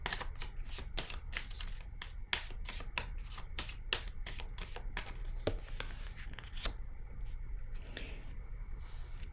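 Tarot cards being shuffled in a steady run of quick riffling flicks, then slowing as a card is drawn, close and clear.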